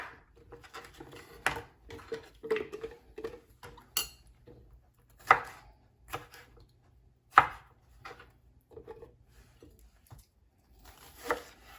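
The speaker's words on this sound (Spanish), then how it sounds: "Ahora voy a picar todos los condimentos." A knife chops seasonings on a cutting board for a stuffed rice casserole, a run of close, irregular sharp taps and knocks with short pauses between bursts, and no talking.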